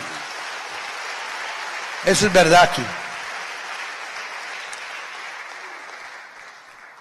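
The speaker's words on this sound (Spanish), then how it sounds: "Démosle palmas al Señor" Church congregation clapping together in a brief burst of applause lasting under a second, amid a preacher's amplified voice that continues afterward.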